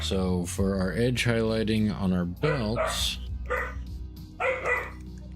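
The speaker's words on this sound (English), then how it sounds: "Pardon my dog barking in the background." A puppy barks repeatedly in the background, a run of loud, tonal yips and barks with short gaps, while someone talks over it.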